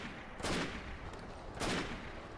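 Two faint, distant bursts of IF 54 battle rifle gunfire in Fallout 4, spaced about a second apart, rise out of a steady, noisy game background.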